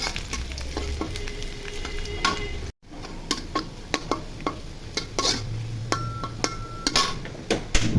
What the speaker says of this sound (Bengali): রসুনের কুচি দিয়ে ভেজে নিব।